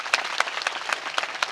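An audience at a religious stage event claps loudly and irregularly, a dense patter of hands with a few sharper bursts standing out over a short stretch.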